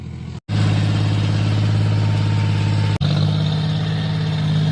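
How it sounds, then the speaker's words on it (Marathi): A farm tractor's engine runs steadily at close range with a loud, constant droning hum, interrupted by two brief cut-outs. "आता ट्रॅक्टरवर तीन जणांचे हात लागलेले चालवत आहे"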